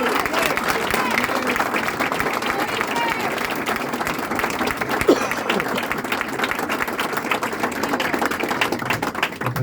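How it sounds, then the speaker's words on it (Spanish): A crowd at a political rally in Río Cuarto claps steadily and loudly to welcome Guillermo Moreno, with a constant wash of applause and some crowd noise mixed in. "Fuerte aplauso."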